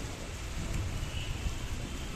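Steady evening rain hisses continuously, a dense wash of noise with a low rumble underneath.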